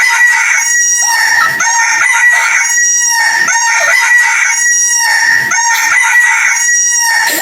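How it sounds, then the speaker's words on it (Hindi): Roosters crow repeatedly and loudly in a steady series of long, strained calls, one after another, close to the microphone with no talking over them. "ये मुर्गी क्यों भौंक रहा है?"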